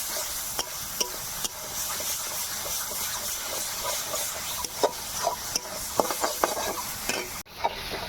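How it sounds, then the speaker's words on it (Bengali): Spice masala with salt and turmeric being stirred and fried in a pan, a steady sizzle broken by repeated scraping strokes of a spoon, close and fairly loud, no voices. "আবার একটু কষিয়ে নেব যতক্ষণ না মশলা থেকে তেল ছাড়ছে।"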